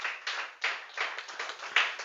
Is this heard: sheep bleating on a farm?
no